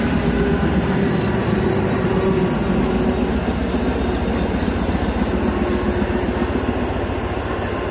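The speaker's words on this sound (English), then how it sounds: "It's a train." A train rumbles past nearby, a loud, steady roar of rolling wagons with dense low rumble and faint rhythmic clatter throughout.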